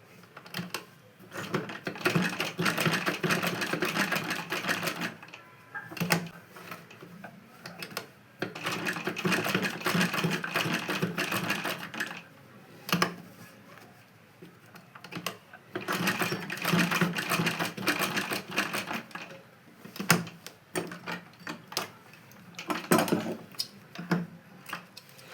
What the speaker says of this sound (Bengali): আমি এই যে দেখুন সেলাইটা করে নিয়েছি